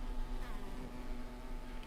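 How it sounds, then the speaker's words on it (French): A steady insect buzz from several hornets hovering near beehives, a continuous drone with a faint hum underneath, no voices. "comme tu peux le constater, on a des frelons ici encore"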